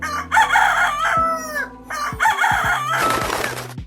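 A rooster crows twice in quick succession, close and loud, each call rising then trailing off, from a stock sound-effects library recording of a rooster calling close up.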